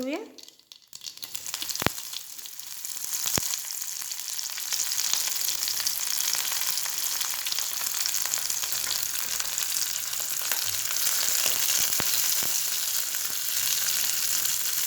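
Onions sizzle in a pan with cumin and mustard seeds for a Marathi wheat kurdai bhaji. A steady, close frying hiss builds and holds throughout, broken by a few sharp clicks of a stirring spoon.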